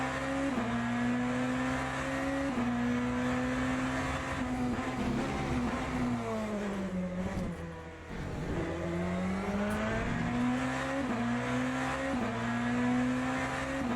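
A BMW hypercar in the racing game Le Mans Ultimate, engine droning loud and steady at high revs with gear shifts and a dip as it lifts and revs back up, no voices.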